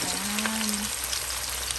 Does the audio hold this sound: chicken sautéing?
yes